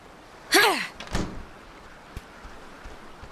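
A door in the video game Oxenfree is bashed open: a creaking scrape followed by a heavy thud and a small knock, fairly close, then quiet room tone.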